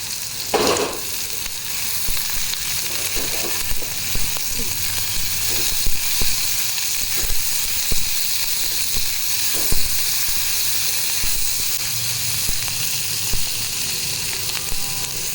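Corn kernels sizzle and crackle steadily as they fry in hot oil for crispy corn, a continuous bright hiss broken by periodic scraping stirs and soft clinks.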